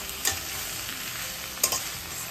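Chopped drumstick leaves with salt, turmeric and asafoetida being stirred in a pot, a steady soft sizzling bed with two sharp spoon knocks against the vessel, close and without speech.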